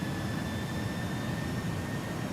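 Jet engines of a DHL Airbus A300 in the X-Plane 11 flight simulator give a steady, continuous roar with a constant hiss and faint high whine, with no talking.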